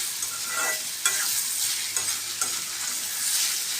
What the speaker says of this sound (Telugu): చూడండి ఫ్రెండ్స్, వేగుతున్నాయి, కలర్ చేంజ్ అవుతున్నాయి.